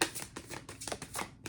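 Cards being shuffled in quick, papery riffles and flicks, close up and fairly quiet, with no talking.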